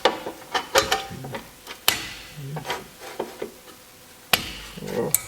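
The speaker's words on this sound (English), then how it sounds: "I'm reaching in with my screwdriver and finding the adjuster, and I crank the adjuster up until my brake rotor locks up" A screwdriver cranks the brake adjuster on a Porsche 911 rear brake, giving a run of fast mechanical ratcheting clicks with some irregular knocks and rattles, close-up in a workshop.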